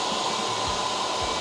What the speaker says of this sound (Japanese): で奥の方もドライヤーで温めます。